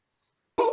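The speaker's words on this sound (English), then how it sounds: "Outside is heard a barking noise" A single short, harsh seal bark bursts out abruptly after near silence, loud and raspy, cut off at the end.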